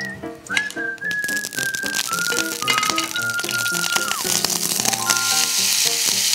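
Oil sizzles and hisses steadily in a frying pan, a loud continuous crackle layered with bright whistling tones and occasional clinks, no talk over it.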